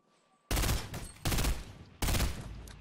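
Long-range rifle firing in Fortnite, three separate loud bursts of rapid close gunfire, each lasting about half a second to a second, separated by brief pauses.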